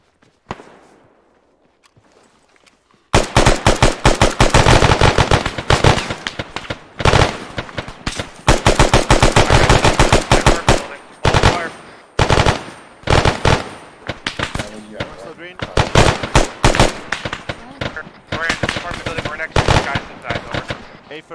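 Machine gun fire erupts after a quiet start during a firefight, with long, loud bursts of rapid automatic shots close by, broken by short pauses, and voices heard in between.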